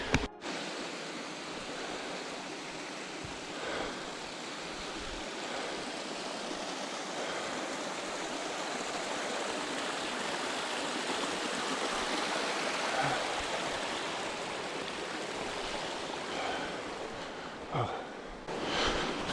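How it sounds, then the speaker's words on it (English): Steady rushing roar of a waterfall in the dark beside a shelter on the Appalachian Trail, constant and fairly loud, filling the whole stretch with no voices over it. "Imagine going up in the dark next to a waterfall."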